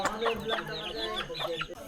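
Several chickens cluck and chatter in quick overlapping calls, close by, fairly loud.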